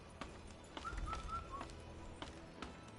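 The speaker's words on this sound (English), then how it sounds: "Is a bird." A bird in the video game Wuchang: Fallen Feathers gives a few short, soft cooing whistles midway, faint against scattered thumps and game background ambience.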